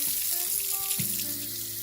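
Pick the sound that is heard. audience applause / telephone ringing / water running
water running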